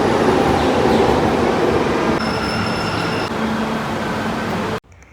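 A Bangalore metro train rumbles loudly and steadily for most of the stretch with a faint high whine, then cuts off abruptly near the end; no one speaks.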